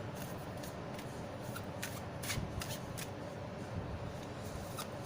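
A tarot card deck being shuffled by hand, with soft riffling and several sharper card snaps over a steady faint background hiss, close and quiet.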